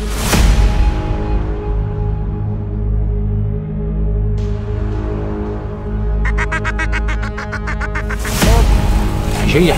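Ducks quack loudly during a duck hunt in South Africa, harsh repeated calls near the start and end with a rapid rattling burst in between over steady outdoor noise.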